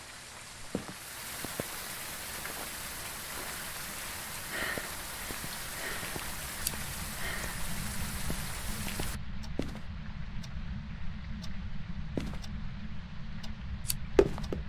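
Steady rain patters on surfaces in the Phasmophobia ghost-hunting game, a dense continuous hiss with scattered drop ticks. The wash shifts partway through, and occasional louder taps stand out near the end.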